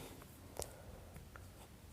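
Pen or chalk scratching out a trigonometry working on paper or a board, a few faint short strokes and taps in a quiet room.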